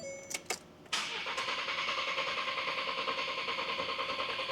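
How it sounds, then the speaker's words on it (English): Car engine cranked with the throttle pedal floored after an oil change: a few short starter bursts, then the engine catches and holds a steady, loud, fairly even run, close by with no talk. "throttle pedal to the floor, cranking the engine."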